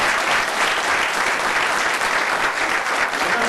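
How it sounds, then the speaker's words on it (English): At an economic outlook conference, an audience gives a big round of applause. The clapping is dense, even and continuous from a large crowd throughout, loud and close. "Big round of applause for Dr. Jim Peace and Dr. Oliver."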